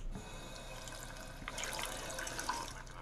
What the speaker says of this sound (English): I just drank some water from a sink.